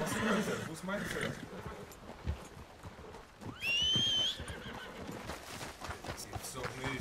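Horse in the Red Dead Redemption 2 video game giving a loud, rising whinny midway, with clip-clop of hooves and game ambience around it while someone talks over it.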